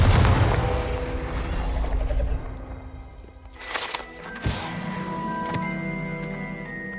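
A Confringo spell blast in Hogwarts Legacy lands as a loud booming burst at the start and fades into a rumble, then brief whooshes and a sharp crack follow, over steady game ambience.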